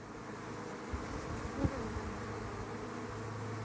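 Honeybees buzzing steadily at an open beehive with incoming pollen foragers, a dense continuous hum with a couple of faint knocks.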